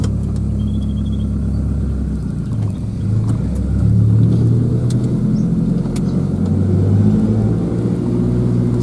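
A Toyota Hilux with a 3RZ engine and a homemade perforated exhaust idling and running steadily, a loud, close, deep droning rumble that swells slightly partway through.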